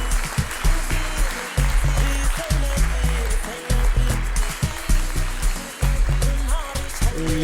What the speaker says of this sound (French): sous des applaudissements nourris de ce magnifique public